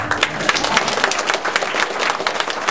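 An audience at a concert applauds, dense and steady clapping throughout with no talking.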